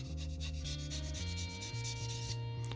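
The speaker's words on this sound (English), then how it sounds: "I sand up" Steady rubbing of sandpaper worked upward along the fender edge of a Hasegawa Lamborghini Miura SV scale model car body, close and continuous with faint tonal hum beneath.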